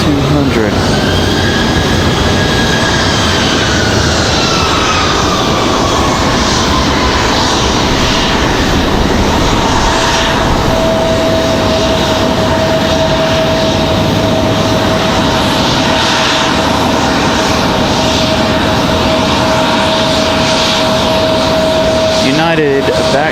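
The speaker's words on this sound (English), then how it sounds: "Next arrival is going to be JetBlue 1385 coming in from JFK, New York." A JetBlue Airbus A320-200 arrives at Raleigh-Durham airport, its jet engines producing a loud continuous roar and whine with a falling tone and then a sustained high whine. Other airport noise is heard, and people talk now and then.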